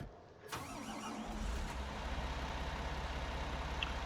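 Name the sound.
tractor engine starting in a farming video game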